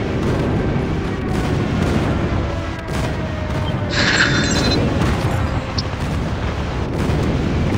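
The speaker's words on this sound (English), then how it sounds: "Enemy airstrike incoming." Dense, continuous rumbling booms from airstrike explosions in a Call of Duty multiplayer match, loud and sustained throughout, with a brief brighter burst partway through and no clear speech.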